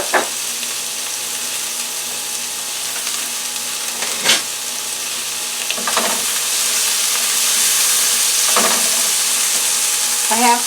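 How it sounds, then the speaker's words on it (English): Food sizzles steadily in olive oil in a hot frying pan, the crackle growing denser and louder partway through, with a few sharp clinks of a utensil against the pan. "I have some olive oil in the frying pan"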